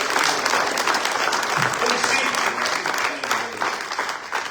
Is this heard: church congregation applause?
yes